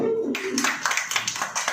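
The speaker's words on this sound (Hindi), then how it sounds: "ताली बजाओ" A congregation claps along during a Hindi-language Christian sermon, a quick run of sharp hand claps blending into a steady patter under a speaking voice, fairly close and moderately loud.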